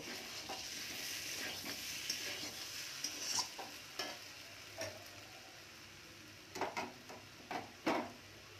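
Spice paste sizzles steadily in a pan on medium gas for a sole fish and radish curry, with occasional scrapes and clinks of a spatula stirring it.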